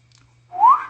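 A single loud, sharp whistle, a brief rising tone lasting about half a second, sounds alone against a faint low hum.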